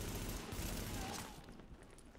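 Gunfire in the video game The Division, a dense burst of rapid shots in the first second and a half that then fades to quieter scattered sounds, with no clear speech.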